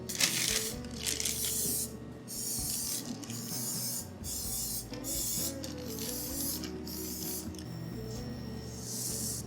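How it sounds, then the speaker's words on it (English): Short bursts of aerosol spray hiss out several times into a pastry mold, close and fairly loud, over a steady background hum with some clatter. "I'm gonna slightly spray the inside of the mold"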